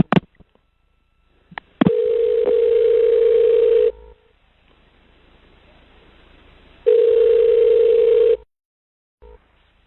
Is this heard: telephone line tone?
yes